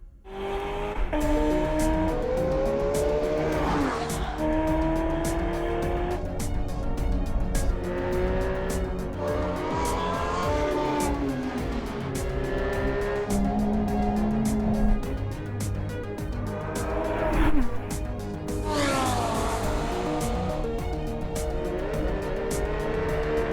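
Aston Martin V12 Vantage S lapping the Nürburgring, its V12 loud and close, revving hard through repeated upshifts and downshifts, with rising and falling engine pitch and a few tire squeals.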